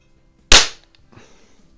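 A single sharp crack from a rare Crosman model 147 self-cocking .177 pellet rifle, loud and close, followed by a short faint clatter as the shot dies away.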